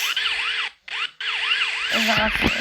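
A police car siren wails in repeated rising and falling sweeps, cutting out briefly before resuming, with other clattering noises toward the end.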